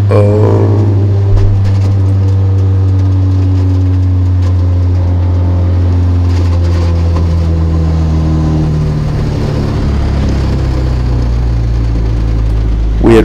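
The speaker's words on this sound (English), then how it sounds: "Weird rattling sound coming." On track, a 2ZZ-swapped MR2 Spyder engine rises and falls in revs with a rough, uneven rattle running through it, loud and close throughout.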